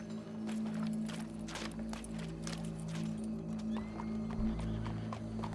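Horse in Red Dead Redemption 2 with steady clip-clop of hooves and a whinny, moderately loud over a low droning background, no talk.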